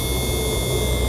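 A gas burner with a fan motor and air regulator roars with a steady, loud broadband rush from start to finish, without any break or voice.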